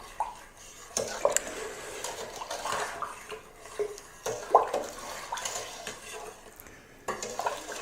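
Sugar being stirred into tomato wine in a container holding straining bags makes soft, faint scraping and swirling, broken by a few light clinks against the vessel.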